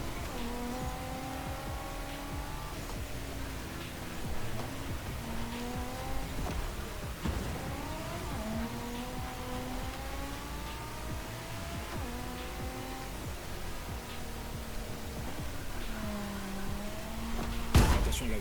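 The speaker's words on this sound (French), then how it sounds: "Une Nissan GTR avec un kit carrosserie des enfers" Nissan GT-R with a wild body kit racing in The Crew Motorfest, its engine note rising and falling through repeated gear shifts, steady and close throughout with a sharp burst near the end.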